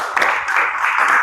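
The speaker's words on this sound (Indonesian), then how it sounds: "Tepuk tangan terlebih dahulu." A classroom of students applauding after a presentation in an Islamic religious education lesson: a short, dense burst of many hands clapping together, fairly loud and close.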